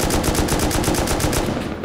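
Rapid automatic gunfire in the video game Rust: a loud, continuous burst of evenly spaced shots that tapers off briefly at the end.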